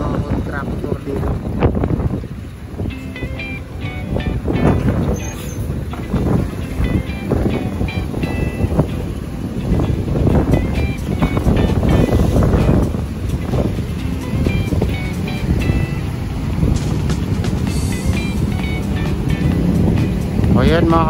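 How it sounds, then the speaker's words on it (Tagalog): Strong waves crash against the Manila Bay seawall in heavy wind, giving a loud, constant roar of surging water and buffeting gusts, with a voice talking over it. "ganyan talaga kalakas yung ampas ng dito. Balon sa siwol mga kabayan, grabe"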